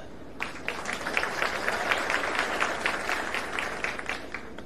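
A crowd at a political rally for Narayan Rane and Nilesh Rane claps in a sustained burst of applause, many hands beating fast and evenly at close range for several seconds, with no speech over it.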